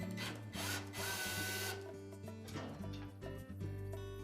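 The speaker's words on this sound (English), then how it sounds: "So begin by removing those two screws." A tool works the control panel screws loose on an LG dryer, giving faint mechanical whirring and clicking bursts with brief pauses between them, heard up close and quiet.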